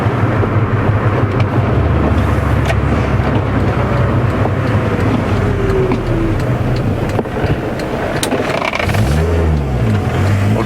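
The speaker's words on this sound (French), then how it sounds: "Ah, sinon le véhicule là, regarde, il roule bien là." A Volkswagen Golf 1 GLI Karmann drives along, its engine droning steadily with road rumble throughout, heard from inside the car, with a brief shift in engine pitch near the end.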